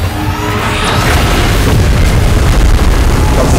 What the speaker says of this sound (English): Is it gonna fire a beam at us?